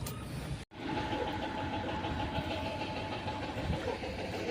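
A motorbike on a dusty trail gives a steady, fairly loud engine drone that holds at an even level throughout, broken only by a brief dropout near the start.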